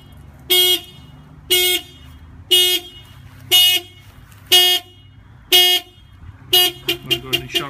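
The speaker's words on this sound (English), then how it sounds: "I'm going to go ahead and shut off the alarm." A car alarm sounds nearby in a series of loud, regular honking blasts about once a second, finishing with a quicker cluster of short chirps.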